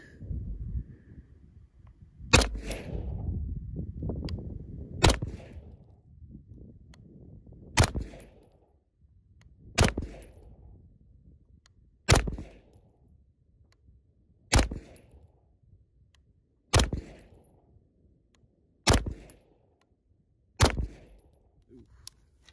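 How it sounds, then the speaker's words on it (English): A Grand Power Stribog SP9A3S fires nine loud, sharp single shots at a range, spaced a few seconds apart with short fading echoes between them, and faint talk is heard near the start. "I know that I'm shooting a tiny bit high and right"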